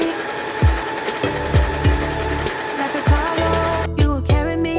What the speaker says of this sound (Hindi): और फिर दोबारा से सिलाई कर देती हूँ।